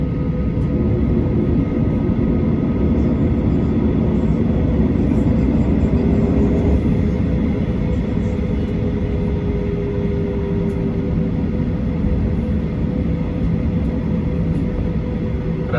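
An American Airlines Boeing 737-800 taking off from Chicago O'Hare on a cloudy day, heard from the cabin: a loud, steady, broadband engine roar and rumble that holds without a break from start to end.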